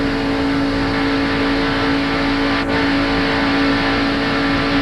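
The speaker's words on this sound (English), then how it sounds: "He's hard on the gas." A NASCAR race car at full throttle, heard from inside the car as a loud, steady, high-pitched engine roar with a constant whine, continuous throughout with no voices.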